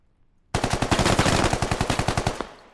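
Rapid burst of rifle gunfire in the video game Squad, about fifteen sharp shots fired in quick automatic succession, loud and close, with no talk.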